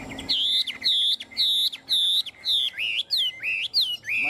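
Hwamei songbird singing alone and close up, a bright series of repeated looping whistled phrases with short pauses between them, the later notes sliding and varying.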